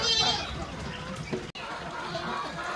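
A goat bleats briefly indoors amid farmyard noise and heavy steady rain, with a short cut-out partway through and faint talking nearby.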